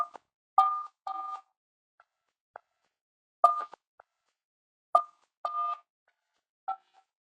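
Phone keypad DTMF tones enter an eleven-digit callback number for a Cisco Webex contact center line, short crisp beeps in irregular clusters separated by pauses, heard alone and clearly.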